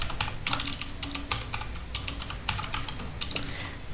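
Fast, steady typing on a computer keyboard while writing Solidity code, with close clicky keystrokes coming in quick bursts and short pauses, heard alone without voices.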